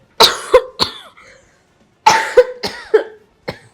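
Two bursts of harsh, close coughing, each a quick run of three or four coughs, separated by a short silence.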